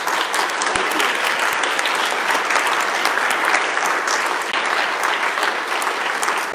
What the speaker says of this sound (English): I'd like to have a round of applause for